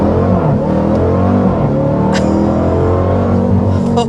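A 2026 Dodge Durango Hellcat launching hard with traction control off, its engine roaring loud and continuous with rising revs and gear shifts throughout, heard from inside the cabin.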